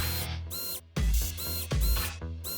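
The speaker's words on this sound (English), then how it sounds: "so I was really happy I had an electric screwdriver" An electric screwdriver driving wood screws while assembling a heavy-duty wooden terrarium stand, loud whirring bursts with brief gaps and a couple of thumping jolts as screws seat.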